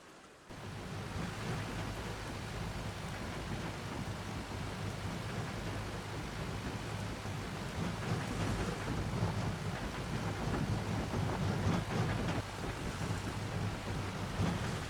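Steady rain and rumbling weather in a farming video game, a constant broadband wash at even loudness throughout, with no talk over it.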